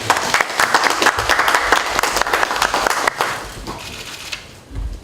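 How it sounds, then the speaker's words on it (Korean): A small group claps at a party leadership meeting, giving close, crisp, irregular claps that taper off toward the end. "이제 세 분이서 박수 한번"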